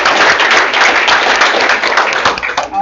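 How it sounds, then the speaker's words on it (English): Loud, dense applause fills a hall at a student game showcase, a thick continuous clatter of many hands that holds steady before tapering slightly at the end. "Let's give some applause."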